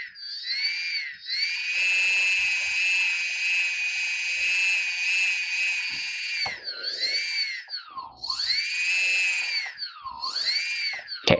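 A small electric quadcopter motor on an Arduino-built drone whines loudly and steadily, its high pitch dipping and rising several times as it slows and speeds up.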